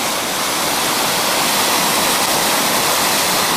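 Low Force waterfall on the Pennine Way in cold, icy weather, running high with a lot of water, gives a steady, loud, broadband roar of rushing water, close and continuous with no voices.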